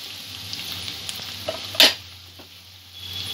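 Onion, ginger and garlic fry in a pan on a medium gas flame, giving a soft, steady sizzle with a few light clicks and one sharper clatter, likely from a spoon.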